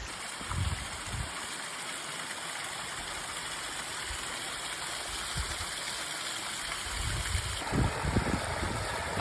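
Cascade Falls in the Wichita Mountains runs after heavy rain, its water pouring over rock as a steady, broad rush of noise that stays even and close throughout, with no voices.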